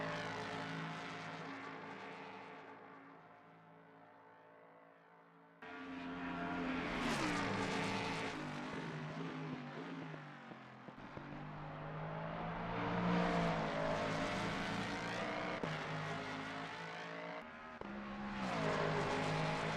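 Mustang GT3 race car from the Assetto Corsa Competizione racing game, heard from outside: loud engine note rising and falling through gear changes and passes, with brief drops between runs and no talk.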